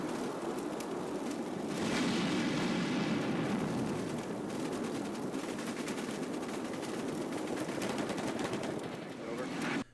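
Video-game gunfire in a Cold War wargame battle, with dense, continuous rattling bursts of automatic weapons and heavy explosive thuds filling the whole stretch, loud and steady with scattered radio voices.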